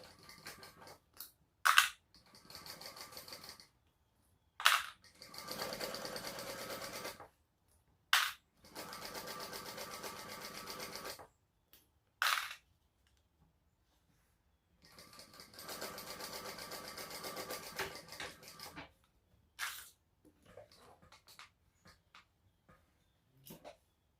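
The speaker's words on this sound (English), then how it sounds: "And sew at the seam allowance in the pattern as well." A sewing machine stitches a bag seam in loud bursts of steady running, several separate runs of a few seconds each with quiet pauses and small clicks between them, no talking over it.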